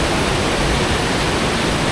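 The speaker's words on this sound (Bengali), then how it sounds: "অ্যাপেল স্টোনের পাশ দিয়ে এই যে বয়ে গিয়েছে খরস্রোতা নদী" Steady, dense rushing water fills the whole clip, a constant broadband roar of a fast-flowing river close by, running past a large rock called Apple Stone, with no voices.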